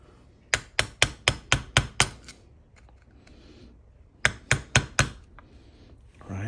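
A screwdriver taps a part on a 2004 Jeep Wrangler power steering box to pry it loose, giving two quick runs of about six sharp metallic knocks, close and loud, separated by a short quiet gap.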